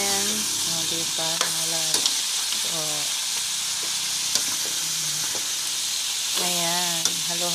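Cauliflower fries and is stirred in a pan, a constant hissing sizzle broken by scraping and clanking from the spatula while a voice talks intermittently over it.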